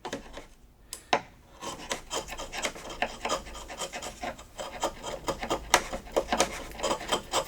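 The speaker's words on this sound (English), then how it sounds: "I have the 1 inch chisel here, and I'll be using that to just kind of shave this down ever so slightly." Close, dry scraping as a 1 inch chisel shaves down a wooden tenon, a quick run of short rasping strokes in an uneven rhythm, alone without talk.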